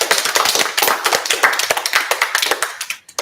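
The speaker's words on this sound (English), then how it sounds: "a great round of applause to your mentor" An audience at a school exhibition claps steadily for a mentor, a dense round of applause that holds throughout and thins out only briefly near the end.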